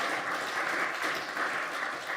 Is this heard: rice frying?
no